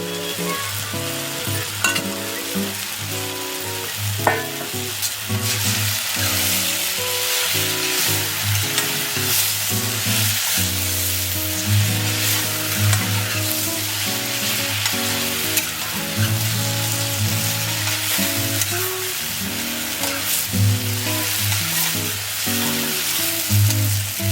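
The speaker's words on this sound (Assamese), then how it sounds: "ইয়াৰ ওপৰত এতিয়া আপুনি পালেং শাকখিনি দি দিব পাৰে।" Steady loud sizzling and frying of spinach with potatoes in a pan, a continuous close hiss with occasional stirring clatter throughout.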